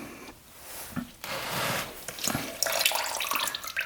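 Thin, gasoline-smelling fuel or oil drains from a cheap used ATV with a flooding carburetor, giving a steady liquid pour and splatter that swells and fades in close, uneven surges.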